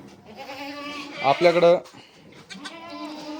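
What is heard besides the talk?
goats bleating on a farm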